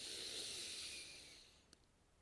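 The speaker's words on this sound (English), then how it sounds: "I want us to take a big deep breath together." A deep breath drawn in slowly, a soft airy rush lasting over a second that fades out, followed by quiet.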